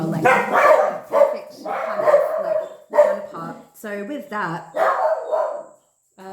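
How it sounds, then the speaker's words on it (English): A dog barks in short bursts several times while a person keeps talking over it, the barks fairly close and loud. "please excuse the barking."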